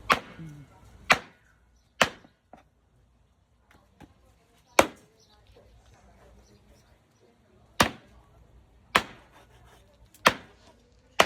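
Meat being chopped for a barbecue at a home party: sharp, isolated knife-on-board chops, about eight spaced irregularly, fairly close, with faint background murmur between strikes.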